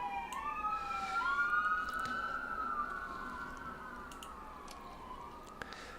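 An ambulance siren wails past on the Trans-Canada Highway, its rising and falling tone moderately distant over faint traffic noise, fading gradually toward the end.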